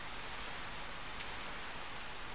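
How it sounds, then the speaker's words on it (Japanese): Steady rain falls in a Fate/EXTRA video game scene, a dense, even hiss with no distinct drops, held at a constant faint level throughout. "雨はほどなくして、焼けた大地を清めていった。"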